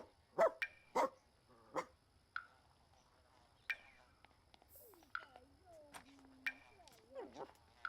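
A dog in The Sims 4 barks several times, short sharp yaps spread over a few seconds, with quiet game voices and whispery chatter between them.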